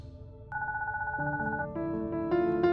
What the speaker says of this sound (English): When the phone rang, she picked it up with a smile.